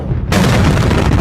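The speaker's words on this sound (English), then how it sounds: "A massive explosion, many times bigger than the first blast, and a blinding white light." Massive industrial explosion at Tianjin port, China: after a brief quiet moment, a sudden loud, sustained broadband blast roars and rumbles continuously to the end.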